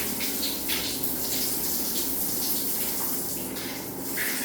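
Shower water running steadily in a bathroom, a continuous broad hiss of spray with no pauses, close and fairly loud throughout.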